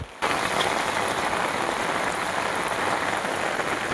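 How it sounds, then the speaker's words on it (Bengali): Heavy rain pours down steadily and loudly, a dense close hiss of drops hitting surfaces after a brief quiet start, with no voices. "তো বন্ধুরা দেখতে পাচ্ছি কত পানি গিরছে"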